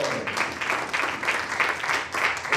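Church congregation clapping together in a rhythmic burst of applause during a Spanish-language sermon, moderately close and sustained across the room with no speech over it.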